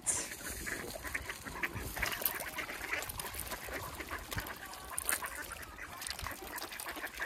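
Juvenile swans at feeding time at Westlake Clayhole honk and call in a constant busy chorus, close and overlapping, with splashing and bustle underneath and no clear talk.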